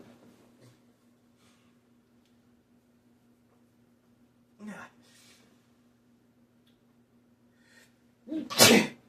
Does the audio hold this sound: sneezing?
yes